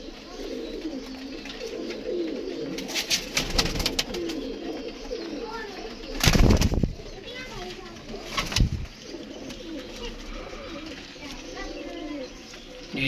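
Soft pigeon cooing mingles with a busy background of rustling and movement, broken by a couple of brief loud bursts.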